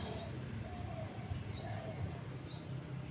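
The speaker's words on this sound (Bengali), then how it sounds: "পাখিগুলো কিরকম করছে" Quiet bird calls in the early morning: short rising chirps repeat about once a second over a steady low hum of ambient noise, fairly distant and faint.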